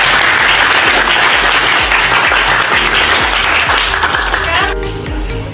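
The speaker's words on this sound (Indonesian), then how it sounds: "Oke, beri tepuk tangan yang meriah." Loud, lively applause from students in a classroom, with many hands clapping and cheering voices mixed in, the clapping thinning out in the final second.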